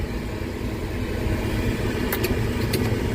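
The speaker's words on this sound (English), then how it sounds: "sitting here with the rotor running, it's starting to trickle over" A combine harvester sits with its rotor running during a wheat harvest in Kansas, giving a steady, loud mechanical drone and hum that continues without pause, with a few faint high clicks near the end.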